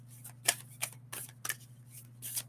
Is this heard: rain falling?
no